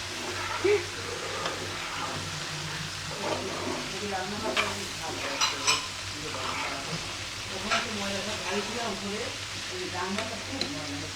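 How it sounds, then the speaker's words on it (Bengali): Ash gourd sizzles in a frying pan, a steady close crackle with occasional knocks and scrapes of a spatula, while someone talks over it in the background. "ভাজি হচ্ছে চাল কুমড়া ভাজি"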